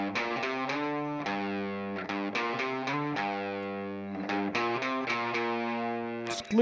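An electric guitar riff with light compression and distortion is played as steady chugging chords with short gaps. It sounds clear and sits alone, with no voices.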